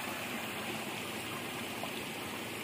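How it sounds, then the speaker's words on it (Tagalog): A swollen stream fed by Kataw Falls rushes strongly past a rainy farm field, a steady, close, broadband gush of flowing water with no talking. "malakas na yung agos ng tubig"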